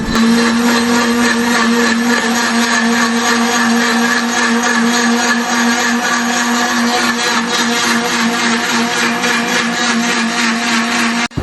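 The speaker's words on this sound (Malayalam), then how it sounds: "പച്ചമാങ്ങ പുതിനയില മുളക് ഇഞ്ചി പഞ്ചസാര ഉപ്പ് എന്നിവ ചേർത്ത് മിക്സിയിലിട്ട് നന്നായി അടിച്ചെടുക്കാം" A mixer grinder whirs loudly and steadily, blending green mango, mint, chili, ginger, sugar and salt into juice, with a constant high-pitched motor hum and no pauses.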